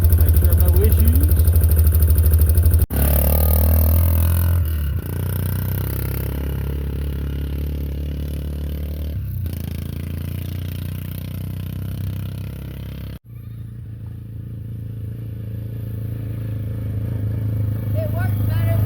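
A 2009 Yamaha Big Bear 400 ATV engine running with a freshly replaced carburetor, a steady close mid-pitched drone that revs and settles, with people talking over it.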